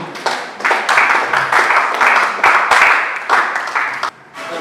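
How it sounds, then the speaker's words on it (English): Audience applause at a Rotary mental health talk show welcoming a past district governor, loud close clapping from a small group in uneven bursts that briefly dips near the end. "Please, a round of applause for him."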